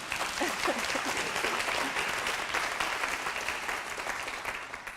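Dense audience applause at a talk on global austerity and health, a steady wash of many hands clapping at once that holds evenly and begins to ease near the end.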